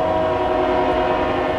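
In American Truck Simulator, a passing train sounds a loud, steady horn close by. The blast is sustained and unbroken through the whole moment, with no other sounds around it.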